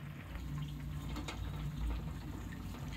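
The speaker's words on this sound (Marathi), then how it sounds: "आता यामध्ये मी त्याच वाटीने 2 वाटी गरम पाणी घालतीये" Hot water pours steadily into a bowl of poha flour, a close continuous splashing fill lasting a few seconds with no talking.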